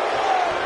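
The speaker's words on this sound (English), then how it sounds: "And listen to this crowd!" A crowd roars in a wrestling match video game, a brief, dense burst of cheering at steady loudness.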